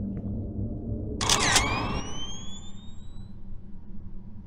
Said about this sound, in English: Push the shutter.